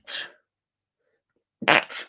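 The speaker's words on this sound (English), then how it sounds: "I need to sneeze." A single close, loud sneeze, preceded by a short sharp inhale or sniff and followed by a brief trailing breath.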